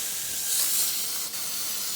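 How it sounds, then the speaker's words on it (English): A steady, close hiss of cooking spray sprayed onto a grill runs continuously for a couple of seconds, with a brief dip near the end. "Put a little spray on the grill so it don't stick."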